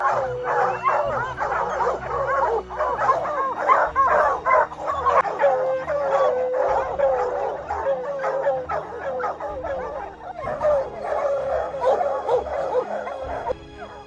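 Plott hounds used for bear hunting bay and howl together in a dense, continuous chorus of yips and drawn-out cries, loud and close.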